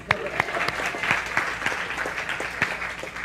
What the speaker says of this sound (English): Everyone clap for Shannon.